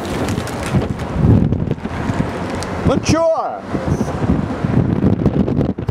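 Wind buffets the microphone on a bridge in London in loud gusty rumbles while a person speaks briefly.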